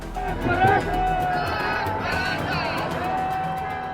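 Large crowd of Maratha protesters gathered along Marine Drive in Mumbai by the sea, a steady dense hubbub of many voices with scattered shouts and whoops, continuous and fairly loud throughout.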